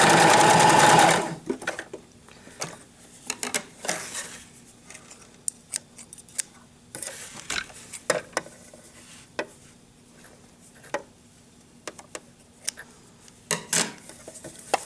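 A sewing machine back stitches along a seam on a zippered duck-shaped pillow, a loud initial run of stitching followed by quieter short bursts and scattered clicks of fabric handling.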